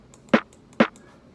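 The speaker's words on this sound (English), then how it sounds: "I took this snare, which sounds like this" A snare drum sample plays as two sharp, dry hits about half a second apart, fairly quiet and alone with no talking.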